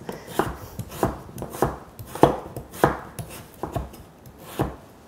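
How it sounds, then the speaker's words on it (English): A knife chops peeled squash into bite-sized cubes on a cutting board, about ten firm, evenly spaced thuds, close and clear with no voices. "Once you peel it, you make sure to cube it up in nice bite-sized chunks."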